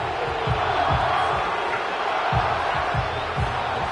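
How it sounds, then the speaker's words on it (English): Crowd at an American football stadium roaring steadily through a third-and-long play, a dense, loud wash of cheering with rhythmic low thumps beneath it, no speech. "This crowd turning up the decibel level."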